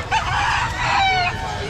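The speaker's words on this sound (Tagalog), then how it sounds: "Ito namang side na to, bilihan to ng mga panabong na manok." Fighting cocks at a market stall crow loudly and close, a drawn-out cock-a-doodle-doo rising over a low background murmur and clucking.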